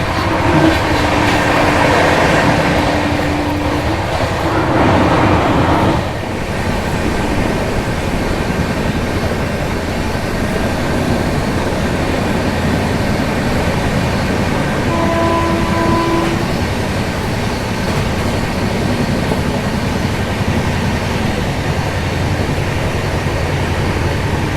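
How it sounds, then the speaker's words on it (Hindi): The Swatantrata Senani Superfast train runs at speed, a loud continuous rolling roar with rail clatter, a surge of passing noise in the first seconds as another train crosses, then steady rumbling with a brief tonal horn-like note. "कुछ ही समय में हमारी क्रॉसिंग होगी वंदे भारत एक्सप्रेस से"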